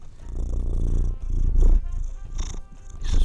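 A cat purrs close by in a low, steady rumble that swells and fades with its breathing, continuous and fairly loud with no talk over it.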